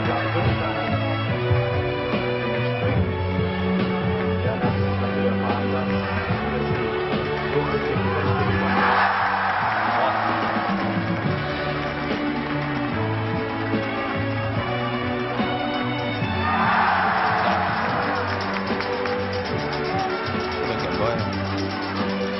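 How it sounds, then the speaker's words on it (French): A stadium crowd at the 1977 Jeux Sans Frontières grand final in Germany roars over continuous band music, with two distinct swells of cheering rising and fading. "Nous allons vous laisser maintenant en contact avec la foule pour cette 3e et dernière."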